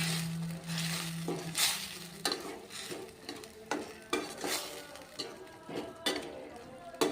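Tomato gojju ingredients with coriander and salt fry in a pan, a soft sizzle broken by repeated spoon scrapes and taps against the metal, close and irregular.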